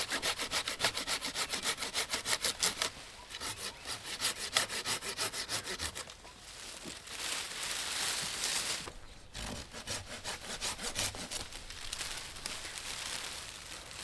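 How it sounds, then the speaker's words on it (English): A Silky pruning saw cuts through olive tree wood in steady rhythmic rasping strokes, close and clear, pausing briefly before resuming with another series of strokes, with no talking. "I love these silky saws. They really do cut through wood like butter."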